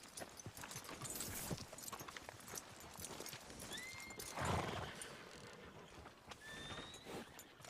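A horse in the Red Dead Redemption 2 video game clops along with rapid hoofbeats, then lets out a loud whinny midway, with faint wind and ambient outdoor sounds in the background.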